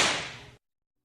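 A single sharp whip crack used as a sound effect, a loud bright burst that decays over about half a second and then cuts to silence.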